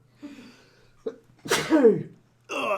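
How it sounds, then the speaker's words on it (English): A single close sneeze with a sharp burst and trailing exhale, surrounded by quiet breathy sounds and a brief voice afterward. "I'm going to sneeze in a minute."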